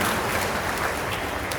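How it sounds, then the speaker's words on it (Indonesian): Congregation applauding during an Indonesian parish anniversary Mass, a dense, steady wash of clapping from many hands throughout, with no speech over it. "Tepuk tangan Romo Robi."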